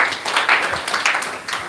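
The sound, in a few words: audience applause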